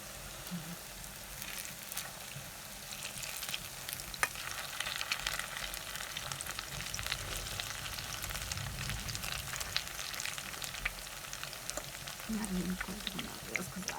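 A steady, crackling sizzle of zucchini fritters frying in a pan runs throughout, with faint clinks and soft background voices now and then.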